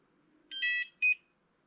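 A Humminbird Helix 5 fish finder, just factory reset, gives a short electronic beep sequence: one longer tone then a brief second beep, clear and close in a quiet room.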